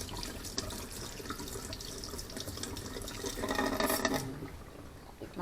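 Bugnay fruit is rinsed under a running tap, a steady close splashing rush of water with fluctuating spatter that swells toward the end, no voices.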